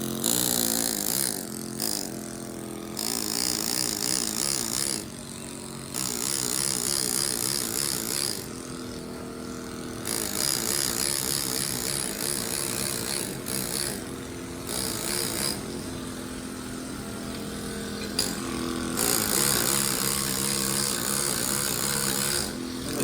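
A chisel carves a life-size bas relief angel in stone, heard as loud, steady buzzing hammering in long bursts separated by several short pauses, close up and without talk.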